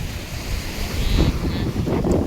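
Sea waves wash continuously at the shore, making a loud, close, rumbling surf with wind noise mixed in throughout.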